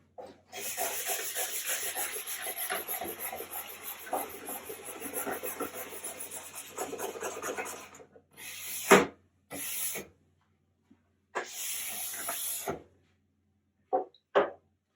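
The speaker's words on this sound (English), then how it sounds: "it's going to brush it out and leave the rest of the wax in the base material" Ski base being brushed after a liquid glide wax application, a steady rasping scrub for about eight seconds, then several short separate brush strokes with pauses between them, close and fairly loud.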